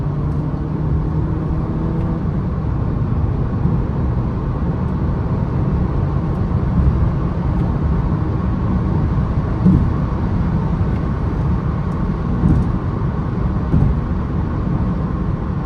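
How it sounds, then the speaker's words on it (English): A front-wheel-drive Audi A3 driving at night, heard from inside: a loud, steady engine and road drone that holds an even level through the downshift and acceleration, with no talking. "Let me do a little downshift."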